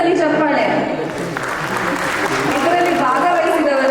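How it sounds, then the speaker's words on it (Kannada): An audience at a Ganesh Chaturthi cultural program claps loudly and continuously, a dense sustained round of applause from a large indoor crowd, with a voice speaking over it. "ಇನ್ನೊಂದ್ಸಲಿ ಚಪ್ಪಾಳೆ"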